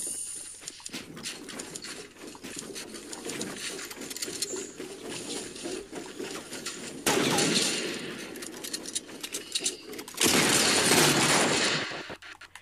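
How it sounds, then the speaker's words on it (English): Rapid bursts of gunfire from a Fortnite match, including a new legendary shotgun, crackling throughout with louder, denser volleys near the end; no talking. "Are they shooting at me?"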